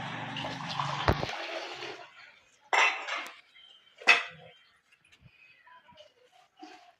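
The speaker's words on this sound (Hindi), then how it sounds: "इधर हो रहे हमारे बर्तन वाश।" Dishes, pots and utensils washed at a home sink, with loud clanks and clinks of metal ware in separate bursts, a longer clattering spell at the start and faint water between knocks.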